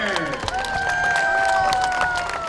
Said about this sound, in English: please give a warm round of applause for the official mascot of the Canadian Army